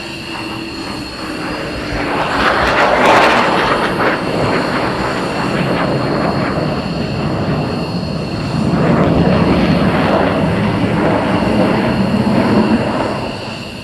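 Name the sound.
military aircraft flying past to land at RAF Lakenheath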